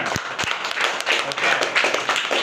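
Children clap for the winning team after a classroom multiplication clock game. The sharp claps come in a quick, irregular patter at close range, and voices mingle with them.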